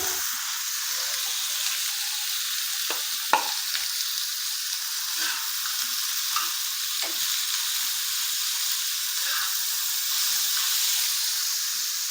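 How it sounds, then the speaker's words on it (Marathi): Onion frying in oil on a griddle, a constant hissing sizzle close by, with occasional scrapes and taps of a stirring spatula, no talking. "आता कांदा परतून घेऊया."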